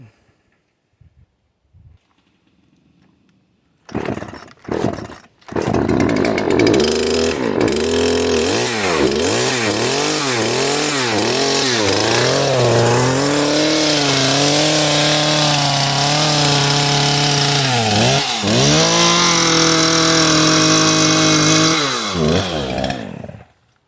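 A Poulan Pro chainsaw with a replaced carburetor sputters through a couple of short pull attempts, then starts and revs hard in repeated throttle surges before settling into a steady high whine while cutting, loud and close.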